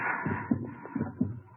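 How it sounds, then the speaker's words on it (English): Heartbeat sound effect from a 1948 radio drama, a steady throbbing pulse of about four dull thumps heard alone, close and fairly loud with no voices over it. "that's my heart beating like a drum in my ears"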